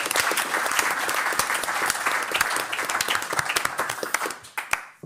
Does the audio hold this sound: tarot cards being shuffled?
no